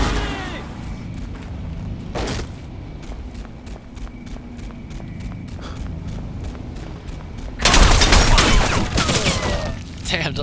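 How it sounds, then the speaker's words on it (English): Loud, close, rapid automatic gunfire from the video game Crysis Remastered, coming in dense repeated bursts, with a heavy blast of sustained shooting near the end. "those gunfire, it's pretty loud"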